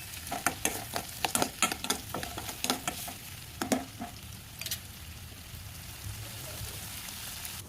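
Onions with a little turmeric fry in a pan toward golden brown, giving a steady, close sizzle broken by quick clusters of spatula stirs and scrapes; no talking.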